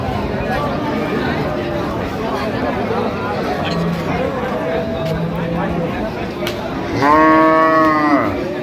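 Cows and calves low repeatedly at a crowded cattle market where cows are sold with their calves, scattered moos over a steady babble of people talking, ending with a loud, long bellow near the end.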